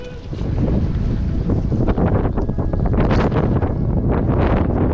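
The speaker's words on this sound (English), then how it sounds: "Yeah, this western wind is no joke." Strong western wind gusting over a Colorado river during a fly fishing trip under rolled-in cloud cover, a loud continuous rush buffeting the microphone with surging gusts and no speech.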